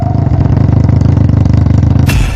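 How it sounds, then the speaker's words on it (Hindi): A new motorcycle's engine runs at a steady idle, a loud close rhythmic thrumming putter that carries on throughout and ends with a brief sharp clatter. "फिर निकाल लाया किस्तों पर नई नवेली बाइक"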